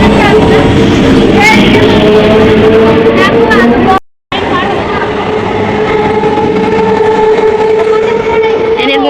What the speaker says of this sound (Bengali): চলে গেল ট্রেন চলে গেল